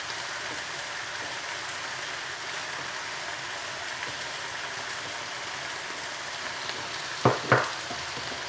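Spices are sprinkled into a hot frying pan for a satay Madras curry. A soft, steady sizzle runs throughout, with two brief sharper crackles or clinks near the end.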